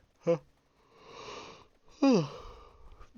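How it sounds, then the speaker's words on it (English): A person yawns in two drawn-out breathy bursts with a falling voiced tone, close and fairly quiet, amid soft background noise. "Just another yawn"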